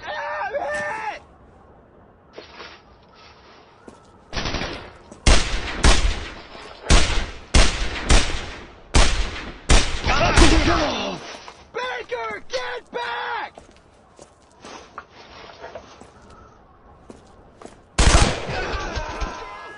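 Bursts of gunfire in Brothers in Arms: Road to Hill 30, with loud rapid volleys and single cracks clustered mid-battle between quieter gaps, along with shouted voices.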